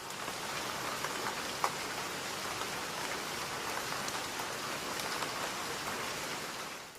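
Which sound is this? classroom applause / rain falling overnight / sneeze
rain falling overnight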